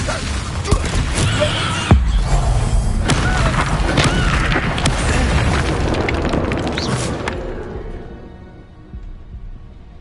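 Loud booming blasts from the Confringo spell in Hogwarts Legacy on PS5, with a sharp hit near two seconds and crashing, rumbling game effects throughout before fading out at the end.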